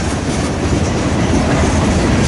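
Freight train with old boxcars, including a KCS rail box, rolling past close by, a loud steady roar of wheels on track with faint clickety-clack throughout.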